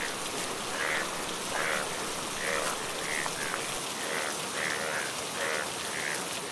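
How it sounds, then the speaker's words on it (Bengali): Rain pours down in a Bengali fairy-tale cartoon, a steady hiss of downpour with faint soft chirps recurring in the background. "আকাশ ফেটে বৃষ্টি নামতে শুরু করে।"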